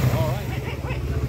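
A noisy motorcycle engine in a repair shop runs with a steady low drone under a voice.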